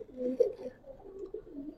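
Giribaz pigeons cooing softly up close, a few low, rolling coo phrases in a quiet setting, faint and gentle with no talk over them.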